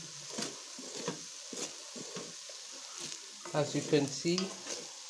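Chinese fried rice being stirred and fried in a wok on a solar-powered gas cooker in a house kitchen, repeated scraping strokes over a steady sizzle, with someone talking partway through.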